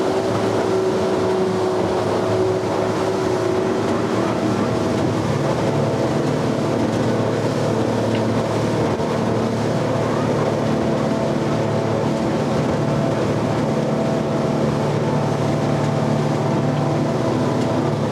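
Motorboat engine droning steadily up close with rushing water noise as the boat turns, a continuous loud roar throughout and no talking.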